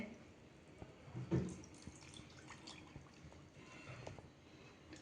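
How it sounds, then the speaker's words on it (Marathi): Faint trickling and splashing of water poured into a small yogurt bowl, a brief louder splash early on, then soft drips and rustling. "दह्याच्याच वाटीमध्ये पाणी घालते आहे।"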